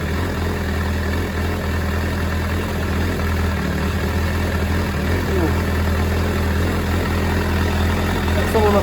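A Suzuki GSF 600 Bandit motorcycle engine idles steadily up close while warming up, a continuous low throbbing hum with no revving.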